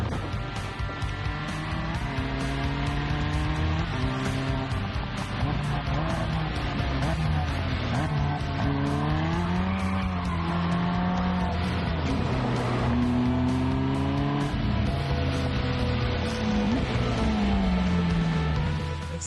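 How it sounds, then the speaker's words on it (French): Ferrari F430 engine roars loud and close, its revs sweeping up and down in long wavering pitches through a continuous, aggressive drone with no talk. "Celle-ci, c'est la F430 bruyante."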